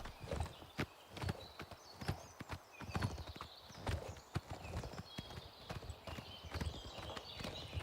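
Horse hooves clip-clop at a steady walking pace in the video game Oblivion Remastered, with dense regular hoofbeats close by, high chimes and ambient tones behind them, and no talking.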